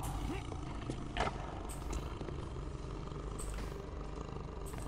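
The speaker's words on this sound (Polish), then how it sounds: "A niezły dźwięk tygrysa?" A tiger in the video game Chaser gives a low, drawn-out roar, faint and buried in a steady hum of game ambience.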